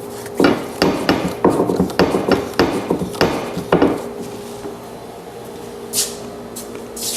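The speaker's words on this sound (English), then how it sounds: "Now I'll put some bar clamps on it." Bar clamps going onto a wood panel glue-up in a workshop, giving a rapid series of sharp wooden knocks and clacks that then trail off into quiet room noise with a couple of faint hisses.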